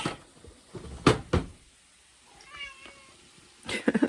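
A house cat meows nearby, a short vocal call in the middle of quiet kitchen sounds, with a few bumps and knocks around it.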